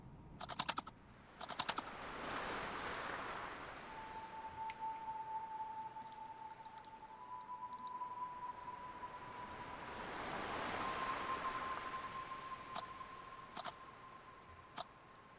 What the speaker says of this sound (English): The sound of the waves has a unique quality to it.